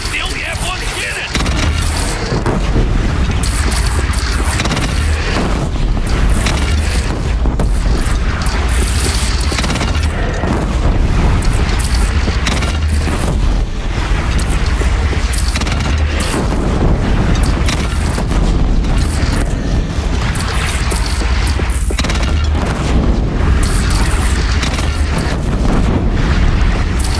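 Sustained battle noise in the game Horizon Zero Dawn: repeated cannon booms and explosions roll on over a dense din of gunfire and machinery, with voices shouting at times over the noise.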